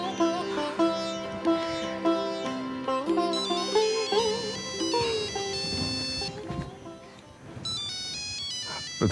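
A phone ringtone plays as a melodic electronic tune in a Hindi TV drama household scene, steady and fairly loud throughout with layered tonal notes and no talking over it.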